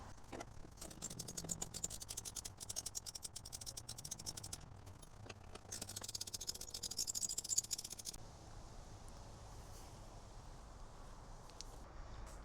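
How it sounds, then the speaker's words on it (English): A ratcheting socket wrench with a 13 mm socket removes bolts at the front of a Fisker Ocean's hood area. It gives rapid, close clicking in bursts, with a faint steady background. "Now we use the 13mm socket wrench to remove the 2 bolts on either side of the front here."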